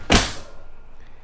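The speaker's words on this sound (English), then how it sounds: "let me close the door so I can block some of the noise" A 2022 Forest River Sandpiper 38FKOK fifth-wheel RV entrance door closes with a single close, solid thunk that fades quickly, leaving low background noise.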